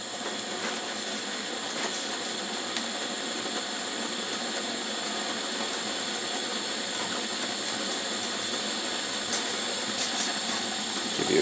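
Coleman Exponent 550B single-burner liquid-fuel stove burning steadily after priming, a constant broadband roaring hiss that holds even and close for the whole stretch, no voices over it.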